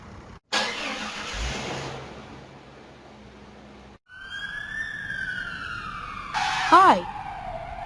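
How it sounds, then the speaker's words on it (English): An ambulance siren wails in a children's transportation lesson, a rising and falling electronic tone that follows a brief whoosh and quiet stretch, ending with a few quick chirping yelps. "I am an ambulance."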